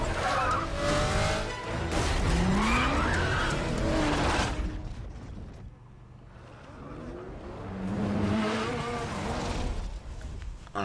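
Game car driving and skidding in a downhill racing video game on Tiago Pass, California, with a buzzing engine note and tire squeals in two bursts separated by a quieter gap.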